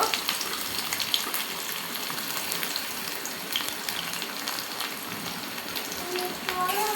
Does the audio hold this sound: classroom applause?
no